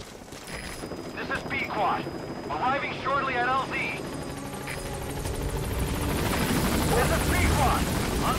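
A support helicopter arrives in the video game Metal Gear Solid V, its rotor and engine roar building steadily under game radio voices and effects, growing louder toward the end.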